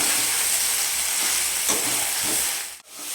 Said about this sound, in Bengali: দেখো বন্ধুরা মটনটা আমার সুন্দর করে কষানো হয়েছে